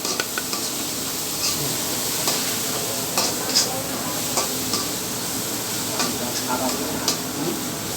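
Raw chicken being worked by hand with turmeric, salt and chili powder, giving a steady close wet squelching and rustling texture with small scattered clicks, continuous through the whole stretch.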